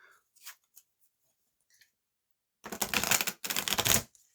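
A deck of war game cards being shuffled by hand: a few soft clicks, then two dense bursts of rapid riffling card noise close to the mic.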